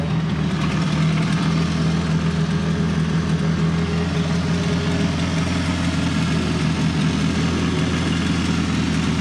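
A 1.4 litre car engine with a 276 cam and a straight-through exhaust idles steadily and loudly close by, its deep lumpy rumble continuous throughout with no talking.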